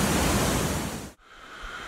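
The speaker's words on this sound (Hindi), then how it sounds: "थोड़ा करीब से देखते हैं इस वाटरफॉल को। बहुत ज़ोर से आवाज़ आ रही है यहाँ से" Kanchenjungha Falls in Pelling, Sikkim, gives a loud, dense roar of falling water that fills the air, then drops abruptly and continues as a softer distant rush.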